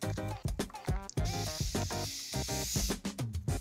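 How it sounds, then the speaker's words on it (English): Repeated quick spritzes from a spray bottle dampening hair with water before sectioning it, a rapid series of short hissing pumps, close and fairly loud, with brief pauses between bursts. "we're just gonna do that by spraying her down with some water"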